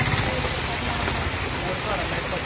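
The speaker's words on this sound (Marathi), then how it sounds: "कराड शहरात पडणाऱ्या दमदार मुसळधार पावसाची दृश्य आहेत" Heavy downpour over the town streets of Karad, a steady dense hiss of rain filling the scene continuously, loud and close with no pauses.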